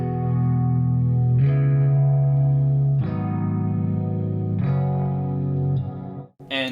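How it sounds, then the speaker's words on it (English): Rhodes electric piano through a stereo widening plugin, sustained chords shifting every second and a half with a wide, swirling, slightly distorted tone, played solo and close before briefly cutting out at the end. "Then we can widen this thing however wide we want."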